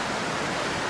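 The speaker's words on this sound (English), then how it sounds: "Right now the creek is running at a pretty good rate." A creek running full early in the season near waterfalls makes a steady, loud rushing wash of water, continuous and even throughout.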